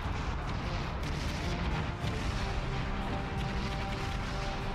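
Warship guns in World of Warships, an Atlanta-class cruiser firing in a continuous barrage of booming shots and crashes that blend into a thick, constant roar at steady loudness.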